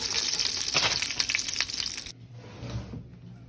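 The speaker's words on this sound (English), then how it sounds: "we're going to fry our other batch" Pork chops fry in a pan, a dense, bright hiss with crackling bursts for about two seconds, then cutting off abruptly to a quieter low rumble and faint clatter.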